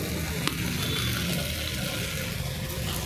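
Ground spice paste frying and being stirred in a pan for a Bengali potato curry, with a steady soft sizzle and occasional scraping of the spoon, fairly quiet throughout.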